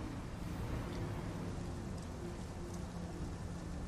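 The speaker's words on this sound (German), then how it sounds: "Oh, es regnet wieder." Rain falls steadily in the video game Satisfactory, a faint, even wash of patter with a low rumbling undertone throughout, no voices.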